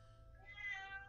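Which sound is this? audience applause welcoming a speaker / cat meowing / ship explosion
cat meowing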